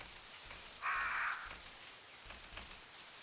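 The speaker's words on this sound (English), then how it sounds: "Birds." Crows cawing in the video game Resident Evil 3, heard in a park: a single harsh caw over a faint, steady ambient background.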